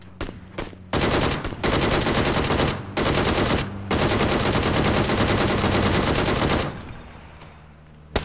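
Loud, sustained bursts of DP machine gun fire in a video game, several long continuous volleys separated by brief gaps, close and dominant with no talk over them.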